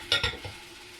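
A spoon scrapes and stirs peppers and tomatoes in a pot for couscous, giving two or three quick, soft strokes over a faint background hiss.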